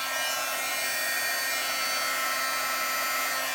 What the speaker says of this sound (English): Then just take your heat gun,